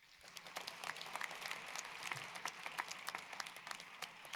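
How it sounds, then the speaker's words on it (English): An audience at a university student-athlete graduation celebration applauds with steady, dense clapping throughout, heard at a moderate distance in a large hall. "Let's give these graduates a round of applause."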